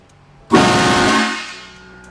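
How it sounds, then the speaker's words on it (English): A loud, brassy train horn fitted to a custom Mini Cooper blasts once at full pressure from close by, holding a rich chord for about a second before tapering off with a lingering ring. "So this is the train horn at full pressure."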